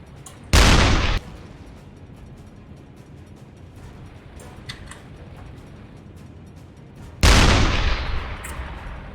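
A submarine deck gun fires at a ship in the UBOAT video game: two loud, close blasts about six seconds apart, each with a short, heavy decay, over a low ambient hum.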